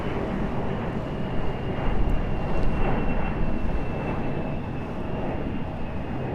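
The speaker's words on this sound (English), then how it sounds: "JetBlue arriving in Edinburgh on an A321." JetBlue Airbus A321 jet airliner arriving at Raleigh Durham airport, a loud continuous broadband engine roar that swells slightly midway, heard alone without voices.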